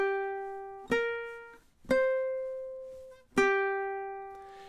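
A ukulele plays the first measure of a riff: three plucked notes, each ringing clearly and decaying before the next, spaced about a second apart, close and unaccompanied.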